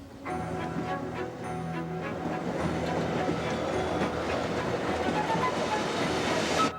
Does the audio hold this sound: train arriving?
yes